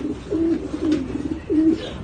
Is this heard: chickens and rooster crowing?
no